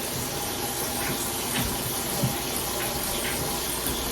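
Tap water runs steadily as hands are washed at a kitchen sink during a cooking session, a continuous close hiss with faint splashes and no talking.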